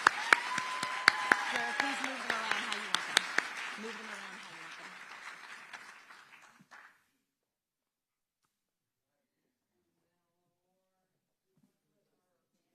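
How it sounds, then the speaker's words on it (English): Audience applause for new grantees on stage at an arts and cultural tourism awards ceremony, a broad wash of clapping with a few sharp claps, fading out after about seven seconds, under a voice giving instructions. "Let's give our new grantees another round of applause."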